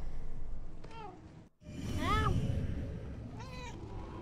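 A cat meows three times with short gaps between, clear and close, over a continuous low rumbling background, in the video game Murdered: Soul Suspect.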